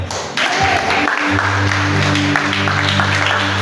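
Church congregation applauding the Lord: loud, sustained clapping from a crowd starting right away and continuing to the end, with a steady musical tone from instruments underneath.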